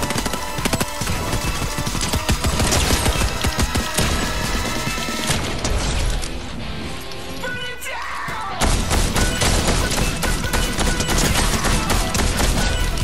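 Fortnite gunfire rattles almost nonstop as rapid, dense bursts of shots with heavy thuds, pausing briefly partway through before loud automatic fire resumes.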